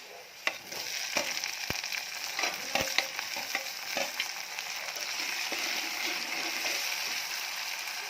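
Finely chopped tomatoes frying in oil for a North Karnataka egg curry, a steady close sizzle with a few sharp spatters and stirring clicks near the start, continuing evenly to the end.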